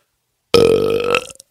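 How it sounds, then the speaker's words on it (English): A single loud, wet belch, close and drawn out for under a second before trailing off into silence. "They get to taste the Undercountry Music News Wet Belch of the Week"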